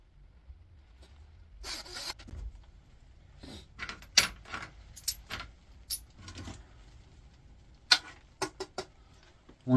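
Metal hinges from a scrapped toasted sandwich maker clink and rattle in scattered light taps and jingles, close and fairly quiet, with occasional sharper metallic clicks.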